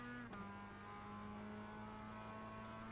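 A Mazda MX5 race car in a racing simulator game drones at a steady high pitch throughout. The engine tone stays constant and fairly quiet, with a brief click near the start.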